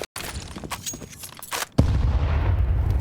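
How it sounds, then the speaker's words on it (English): Grenades and a Molotov land in a professional Counter-Strike match, with loud booming gunfire-like blasts and a heavy sustained rumble following a sharp burst near the end. "And nade's now being dumped in."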